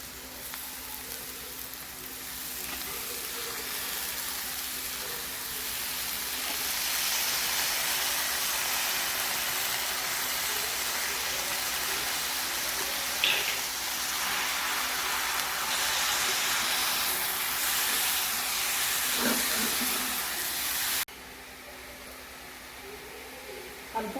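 Wild monsoon vegetable mohar (gaboli) added to a pan on a low gas stove, giving a steady broad hiss and sizzle that holds for most of the clip before dropping quieter near the end.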